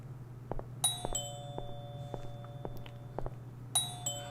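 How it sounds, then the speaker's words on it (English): A doorbell in the horror video game Uncanny Valley rings again and again, each chime bright and clear over a low steady hum, with a few softer knocks in between. "the doorbell just keeps going until you eventually answer the door"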